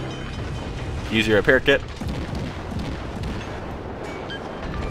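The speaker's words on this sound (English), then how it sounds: "You hear the sound of my ship taking damage." A warship in World of Warships takes hits: a cluster of loud, booming impacts in quick succession, then a rumbling, crackling wash of battle noise, with a short spoken line over it.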